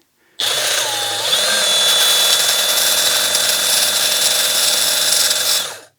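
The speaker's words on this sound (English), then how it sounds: "Here, I'll grind down this bolt here a little bit." A Milwaukee M12 2482-20 bandfile, a 1/2 x 18 inch cordless belt sander, grinds down a metal bolt: a loud, steady motor whine with a high gritty rasp that stays constant for about five seconds, then winds down.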